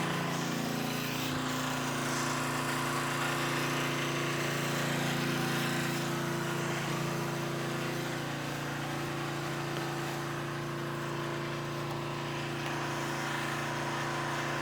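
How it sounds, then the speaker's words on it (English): A portable generator runs steadily at a cabin construction site to power an air compressor that is filling up. It is a continuous, loud engine drone with strong low harmonics, close by and unbroken, with no talk. "we're waiting on the generator to fill up the compressor"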